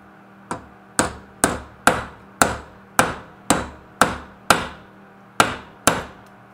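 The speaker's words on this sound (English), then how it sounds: "So the reason why I'm using the tack hammer is it can reach farther down in this" Tack hammer striking metal on an anvil while shaping a ring: eleven sharp, evenly spaced metallic taps, loud and close.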